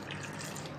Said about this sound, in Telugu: 1/2 కప్పు వాటర్ వేసుకొని